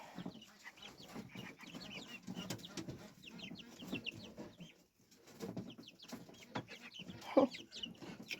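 Backyard chickens clucking softly and repeatedly at a distance, with occasional faint wing flaps and other small farmyard sounds.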